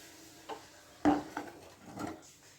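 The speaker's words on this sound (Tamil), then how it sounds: "இப்போ ஒரு பிளேட்டில் இதை மாற்றிக்கலாங்க." Roasted ingredients are scraped from a pan onto a plate, making a few quiet metallic clinks and soft scrapes in an irregular rhythm, close by.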